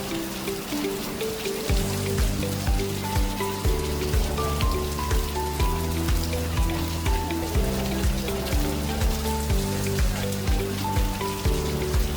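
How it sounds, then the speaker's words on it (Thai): A dense, unbroken roar of heavy rain pours down steadily at a temple in Suphan Buri, Thailand, with a low droning tone running underneath. "ตอนนี้คือฝนตกหนักมาก"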